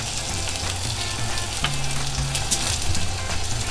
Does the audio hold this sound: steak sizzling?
yes